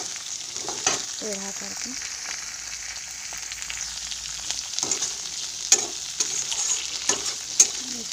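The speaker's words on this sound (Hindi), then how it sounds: "इसको क्रंची स्टाइल में फ्राई करेंगे" Thinly sliced fresh beans fry uncovered in a pan for a crunchy finish: a soft, steady sizzle broken by several sharp clinks of a stirring utensil, with a few words briefly spoken.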